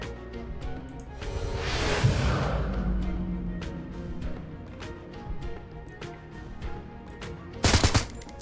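Gunfire from the video game Shadowrun Hong Kong, a series of sharp shots with a sustained rumbling burst early on and a louder flurry of impacts near the end, heard under game music with no talk.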